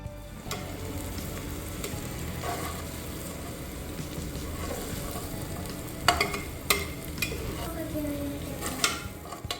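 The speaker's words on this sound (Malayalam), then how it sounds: "അതിലേക്ക് രണ്ട് സവാള നൈസായിട്ട് അരിഞ്ഞത് ചേർത്ത് കൊടുക്കാം സവാള ചേർത്ത് കൊടുക്കുന്നതിൻ്റെ കൂടെ തന്നെ ഒരല്പം ഉപ്പ് കൂടെ ചേർത്ത് കൊടുക്കുക" Two finely chopped onions cook with a pinch of salt in a pan, giving a continuous sizzle and frying crackle with several louder scrapes and clinks of a utensil against the pan near the end.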